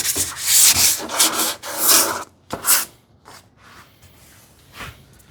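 Hand sanding of a wooden TV unit, several strong rasping strokes in a row, then a pause and fainter, lighter rubbing, close up with no talk.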